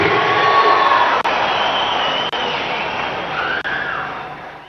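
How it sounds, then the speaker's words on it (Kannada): Large outdoor crowd at a rally in Tumakuru clapping and cheering loudly, a dense continuous roar of applause filling the whole stretch with brief dips. "ಜೋರಾದ ಕರ್ ಚಪ್ಪಾಳೆಯನ್ನ ತುಮಕೂರಿನ ಶಕ್ತಿಯನ್ನ ತೋರಿಸಿ"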